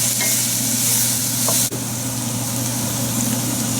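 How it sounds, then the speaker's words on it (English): Vegetables sweat and sizzle in a pan for an Italian fish stew, a close, steady crackling fry with a low hum underneath and one sharp tap midway, no voices. "The vegetables have sweated now"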